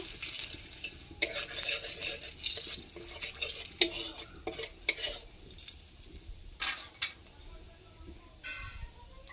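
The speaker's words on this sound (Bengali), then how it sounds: "আর গোটা জিরে দিয়ে দিলাম। নাড়তে থাকি একটু।" Whole cumin seeds fry in oil in a pan for a pointed gourd (potol) curry, stirred in irregular scrapes and taps over a low hiss, fairly faint and without clear speech.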